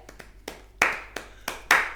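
Hand claps imitating an audience applauding at a cinema screening: about seven sharp, close claps in an irregular rhythm, growing louder toward the end.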